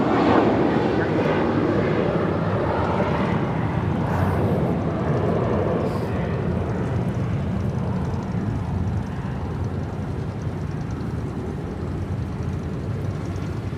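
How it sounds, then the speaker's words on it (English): An American Airlines Airbus A321 takes off from Los Angeles International Airport with a loud, steady jet engine roar that slowly fades as it climbs away. "That was American Airlines 274 departing to JFK on an A321."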